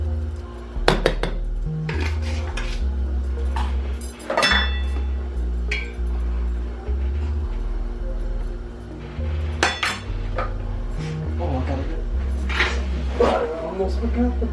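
A metal lid goes onto a pot coming to a boil on a home stove, giving a few scattered metallic clinks and clatters over a steady low background hum.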